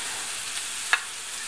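Carrot frying in oil in a skillet gives a steady, soft sizzling hiss at moderate level, with a small sharp crackle partway through and no voices.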